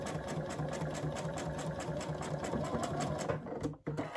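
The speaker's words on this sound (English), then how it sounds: "We're going to just do a little back stitch right here, right on top of the other stitches we did" A sewing machine running steadily through a short back stitch over earlier stitching on a quilt project, a fast even mechanical hum that stops abruptly near the end.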